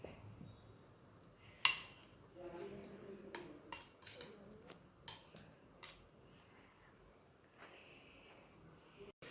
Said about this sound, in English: Now, just mix it.